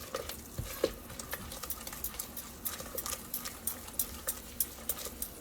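A flour-thickened sauce for crockpot creamy shredded ham bubbles as it comes up to a boil, with steady, close pops and soft sizzling crackle throughout.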